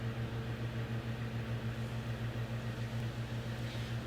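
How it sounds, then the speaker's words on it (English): A vortex mixer whirs on a DNA extraction sample tube, giving a steady low buzzing hum with a faint regular pulse, quiet and unbroken throughout. "We would then mix by vortexing."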